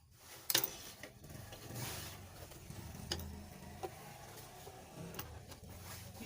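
Scissors snip repeatedly as excess fabric is trimmed from a sewn 180-degree flare skirt, giving a series of close, light, irregular cutting clicks and rustles.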